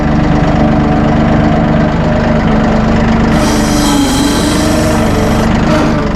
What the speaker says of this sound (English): flip that over, your PTO is running.